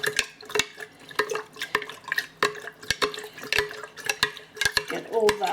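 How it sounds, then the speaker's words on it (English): A spoon stirs a ginger bug mixture in a jar, giving repeated sharp clinks against the glass over sloshing liquid, close and fairly quiet, with a voice briefly near the end. "Give it a good stir"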